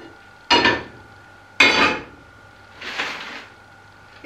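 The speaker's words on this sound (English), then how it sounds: "let me get a pan" Metal pan clanking as it is picked up and set down, three distinct close knocks spaced about a second apart, with quiet between them and no talking.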